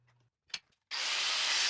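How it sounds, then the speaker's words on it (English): A square steel file is cut down: a few faint clicks and a brief scrape, then a loud, harsh, steady abrasive cutting noise starts abruptly and runs on close by. "I'll cut this square file down first"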